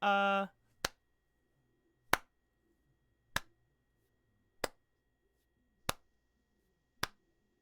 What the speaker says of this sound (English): you guys hear a clapping